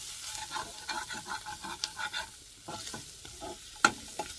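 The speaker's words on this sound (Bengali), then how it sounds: "দিয়ে এবার সুন্দর করে ভালো করে নেড়ে চেড়ে ভেজে নেব" Vegetables fry in fish oil as a spoon stirs them, making repeated scraping strokes over a soft sizzle, with one sharp metallic clank near the end.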